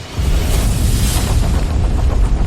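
A radar blowing up as an explosion sound effect, a loud sustained deep boom and roar that fills the whole clip, heavy low rumble with a noisy crackling wash on top, no voices.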